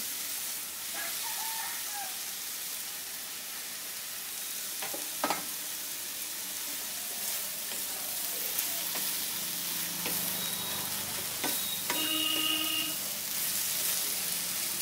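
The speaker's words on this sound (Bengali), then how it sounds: "এবারে এর মধ্যে আমি ভেজে রাখা আলুগুলোকে দিয়ে দিচ্ছি।" Fried potatoes drop into a pan of banana stem, a steady soft sizzle running throughout with occasional clinks and stirring scrapes.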